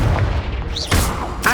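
Hogwarts Legacy Confringo blasting spell: a couple of short booming bursts punctuate a brief stretch of game ambience, loud and close with a whooshing sweep between them.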